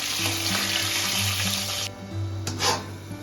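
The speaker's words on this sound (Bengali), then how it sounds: "লাল করে ভেজে নেব আলুটা" Potatoes frying in a pan for a home-style Bengali biryani give off a loud, steady sizzle throughout, with a brief lull and then a fresh crackling surge near the end. No voices are heard.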